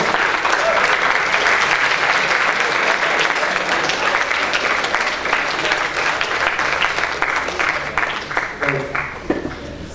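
Sustained, dense applause from a big college audience fills the hall, then thins and tapers toward the end with a few scattered claps and voices underneath.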